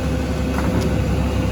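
A steady low diesel rumble comes from an old John Deere 790D excavator as it loads a truck, a constant drone with no clear peaks at moderate distance.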